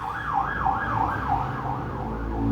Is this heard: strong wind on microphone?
no